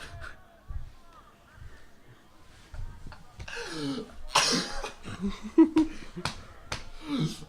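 A few short throat-clearing coughs break out amid quiet, followed by brief sharp sounds, close and moderately loud.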